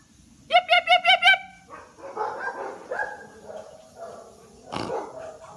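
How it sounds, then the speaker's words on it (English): Several dogs bark on a residential lane, a quick burst of five sharp yips close by, followed by quieter scattered barks and yaps from farther off. "One of the reasons that we call it Dog Lane is that there are just a lot of dogs."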